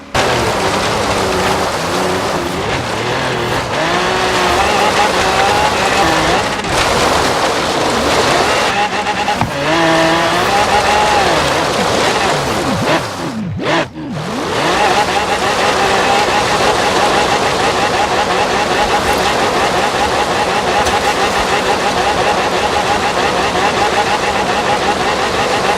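Car driven in circles in the racing video game Forza Horizon 3: a loud, continuous engine roar with tire noise, rising and falling gear whine, briefly cutting out midway, with a voice talking underneath.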